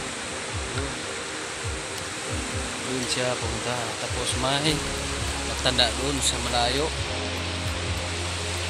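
Strong river current rushes in a steady, broad roar close by, while someone talks over it and faint background voices come through.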